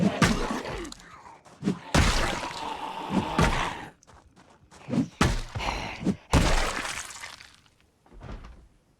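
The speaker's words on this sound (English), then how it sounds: "Hear that banging? That is definitely because one of them heard us fighting." Zombies bang on doors and walls in the Project Zomboid video game: a string of loud, close thuds and crashing knocks comes in irregular bursts with short quiet gaps between them.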